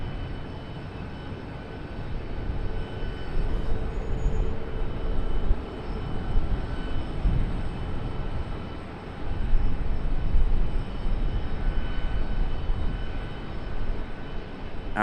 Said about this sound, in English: our 777's making the turn out onto the runway